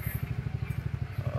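A motorbike arriving at a village, its engine putting along with a rapid, even low-pitched throb, close by and moderately loud.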